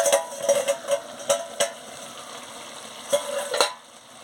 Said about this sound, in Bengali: দেখুন চাপাটা খুলে ভালো করে এটাকে নাড়িয়ে নিচ্ছি